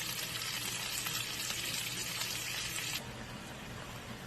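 Cabbage tumbles into a hot pot already holding bacon, garlic and vegetables, setting off a steady, dense sizzle that runs throughout and softens slightly near the end, with no voices over it.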